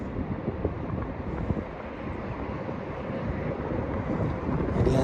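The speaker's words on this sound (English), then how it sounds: "I feel like I am fighting the wind constantly" Wind buffets the microphone while someone kayaks down the Missouri River, a continuous low rumbling roar that swells slightly toward the end, with no talking.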